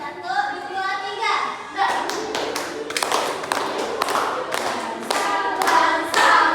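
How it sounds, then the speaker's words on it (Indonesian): Children in a classroom clap their hands in time while singing a patriotic Indonesian song, with sharp, close claps in a quick repeated beat mixed under their sung voices. "Sambil tepuk tangan ya."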